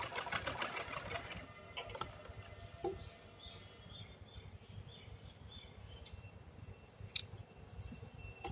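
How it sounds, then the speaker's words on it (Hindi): A sewing machine stitches a fabric pocket, with a quick rattling burst of stitches at the start and then a softer, steady mechanical whir with occasional small clicks, close but fairly quiet. "इसको भी हमने बिल्कुल सेट करके ऐसे सिलाई कर दी"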